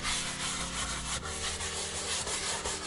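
A dedicated leather cleaning brush scrubs leather in quick, close bristle strokes, a steady continuous rubbing with no speech.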